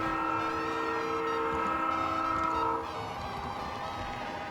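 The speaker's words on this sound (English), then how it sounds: "The EMD turbocharged 645 prime mover sounds crisp, and the S3L horn file matches both the model and the prototype." An Atlas O scale GP40 model locomotive in Penn Central livery plays its EMD turbocharged 645 prime mover and S3L horn sounds, a sustained, chordal horn blast over a steady engine drone that cuts off, leaving the diesel idling alone.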